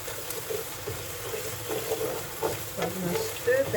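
Garlic, ginger and red curry paste sizzle loudly in a hot pan while being stirred, with a steady close crackle and occasional scraping clatter throughout.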